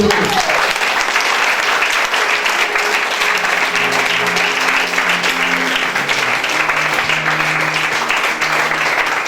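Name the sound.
church congregation applauding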